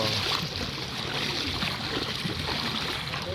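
A flooded, overflowing river in Bilad, Camiling, Tarlac rushes past as a soft, steady wash of flowing water with faint gurgles and splashes, continuous and fairly quiet.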